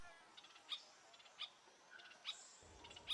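Oustalet's tyrannulet calling in a southeastern Brazil forest, four or five short, thin high-pitched notes spaced about evenly apart over faint background hiss, moderately distant and quiet.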